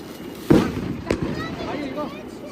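Firecrackers go off outdoors on New Year's Eve in China: two sharp, loud bangs about half a second apart, followed by crackling and a busy background, with people talking nearby.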